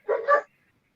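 A single short dog bark, close and clear, with a quick double-peaked yap and then silence.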